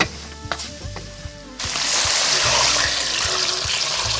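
Water poured into a pan of sizzling lamb offal with dried chilies brings a sudden loud, steady broadband hiss after a quieter stretch of soft clinks and low hum, filling the rest of the moment.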